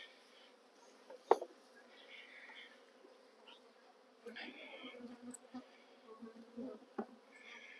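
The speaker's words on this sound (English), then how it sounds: "it does cause a little bit of a stir with the bees returning" Honeybees buzz faintly in the open air around an opened hive, scattered drones coming and going as foragers return, with a few soft knocks and rustles nearby.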